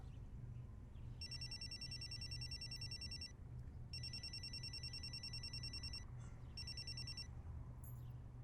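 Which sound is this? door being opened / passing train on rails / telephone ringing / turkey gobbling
telephone ringing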